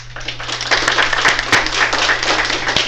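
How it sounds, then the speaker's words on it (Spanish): An audience at a medical conference on geriatric patient assessment applauds a doctor as he is introduced, a steady, full round of many hands clapping close by. "Recibamos con un fuerte aplauso al doctor Albrecht."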